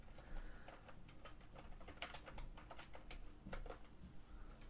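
Quiet typing on a computer keyboard: irregular bursts of light key clicks with short pauses between them over a faint steady background hum, and no voices.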